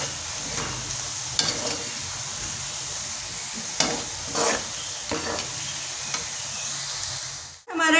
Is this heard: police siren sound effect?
no